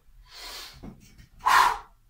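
Two sharp, forceful breaths during a squat exercise, a longer airy exhale followed by a louder, harsher puff of air, close up with no talk.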